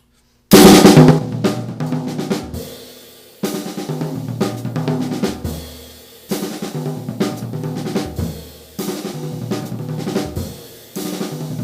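A drum set plays a repeating phrase built on double-stroke triplets moved around the drums, with a loud crash opening and then several similar cymbal-accented bursts of fast strokes, close and without talk.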